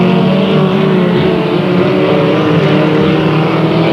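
Race cars racing at Delta Speedway, a loud, continuous engine drone with layered harmonic tones from several cars running close together, steady and near throughout.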